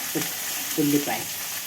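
Curry leaves and green chillies frying in hot oil for homemade upma, a soft steady sizzle with a few brief louder spurts as they crackle in the pan.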